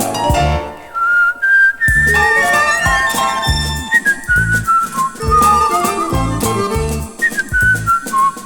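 Melodic human whistling in a stereo French chanson recording, bright and sustained over rhythmic accompaniment with plucked and percussive backing, loud and upfront throughout.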